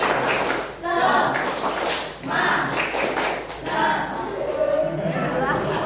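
A school class claps out a rhythmic spirit clap in a classroom, with bursts of patterned hand claps and taps mixed with children's voices chanting and chattering, loud and close.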